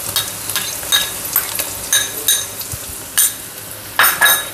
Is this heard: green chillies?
yes